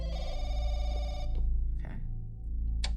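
A telephone rings in the horror video game Firework, a loud electronic bell trill that cuts off after about a second, followed by a couple of faint knocks and shuffles, with no talk.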